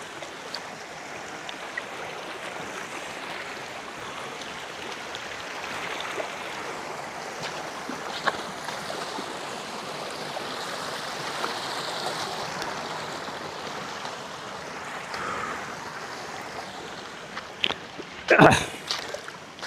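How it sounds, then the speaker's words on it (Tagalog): Steady rushing water of a shallow river flowing between rocks in Talisay, Batangas, at moderate volume, with a short louder splash or knock near the end. "Mababaw lang naman yung ilog na binabaybay namin."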